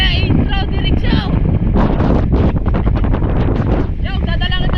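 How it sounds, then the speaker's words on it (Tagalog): Typhoon-force wind in Batangas pounds the microphone with loud, continuous roaring gusts, nearly overwhelming voices shouting over it. "Malakas na naman ng hangin mga kabuhot!"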